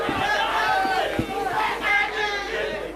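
A dense outdoor crowd cheers and applauds for Governor Kiraitu at a political rally in Tharaka Nithi, a steady roar of clapping and voices holding for the full three seconds with no break.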